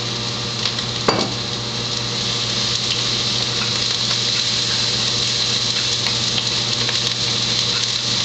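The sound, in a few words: deglazing pan of onions and garlic with bourbon, sizzling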